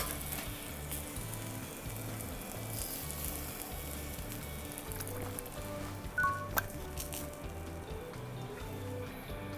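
Whole eggplant in an Italian-style dish simmers and sizzles softly in a pan, a faint bubbling crackle with a few small pops, steady throughout without talk.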